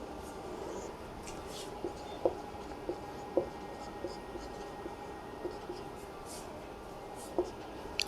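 Pen scratching on paper while someone works through a class 12 maths calculus problem, faint and close, with soft irregular taps and strokes over a quiet room background.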